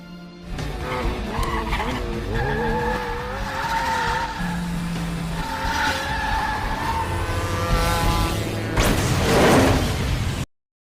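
Film motorcycle chase on a clifftop road, engines revving and tires skidding and squealing with whooshing passes, building to a loud rush before cutting off abruptly.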